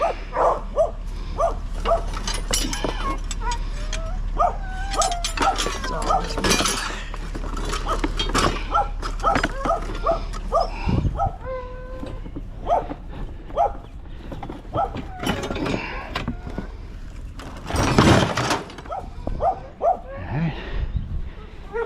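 Several puppies yap, bark and whimper in short bursts, with a louder flurry partway through, while a person talks softly over them.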